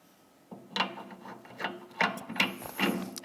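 Ratcheting, clicking mechanical turns as a leg is screwed onto an embroidery machine stand, several uneven bursts of gear-like rasping close by, no talking.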